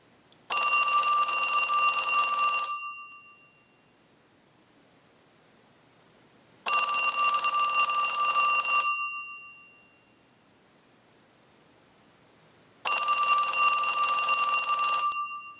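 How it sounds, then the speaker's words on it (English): A telephone rings as a line analyzer sends a ring cycle like an incoming call: three loud, evenly spaced bursts of about two seconds each, separated by roughly four seconds of silence, with no talking. "use our analyzer and send a ring cycle like you were getting a call"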